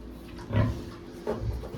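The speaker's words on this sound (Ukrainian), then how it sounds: "Під'їдають лише двоє поросят" Piglets grunting and snuffling as they feed, two short bursts of low grunts close by with a soft background hum.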